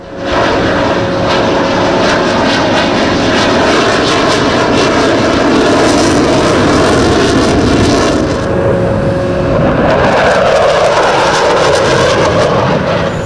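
A French Rafale-type F3 fighter jet flies at the Dubai Airshow with a loud, sustained roaring engine that swells and shifts in pitch as the jet passes close by, with no talk over it.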